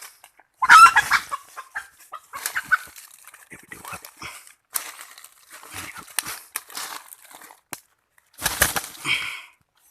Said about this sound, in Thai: นี่ครับไก่ป่าครับ